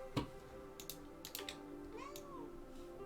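A cat in The Sapling, a simulation video game, gives a few short meows, one with a rising-then-falling pitch, while keyboard typing clicks sound faintly in the background.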